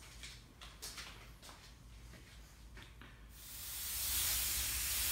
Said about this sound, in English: it's ready to spray the flame color